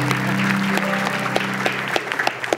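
Studio audience on an Indonesian TV talk show claps for a guest, a brisk mixed patter over a held musical tone and low hum that fades out partway, with a few sharper individual claps near the end.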